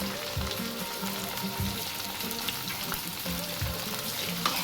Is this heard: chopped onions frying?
yes